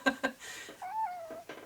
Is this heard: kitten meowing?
yes